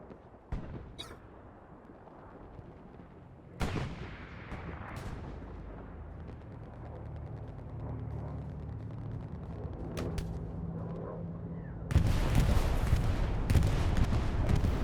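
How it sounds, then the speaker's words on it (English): Bombing run explosions in Hell Let Loose on the Tobruk map, heavy booming blasts at several points, with the loudest and densest rumbling barrage near the end, all laid over continuous low battlefield noise. "It was a defensive bombing run by WTH to clear this airhead out."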